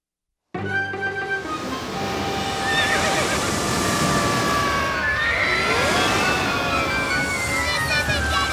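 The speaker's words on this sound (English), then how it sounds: "A horse!" A horse neighs loudly and close in a long, wavering whinny over a dense background of surf-like noise and scene ambience.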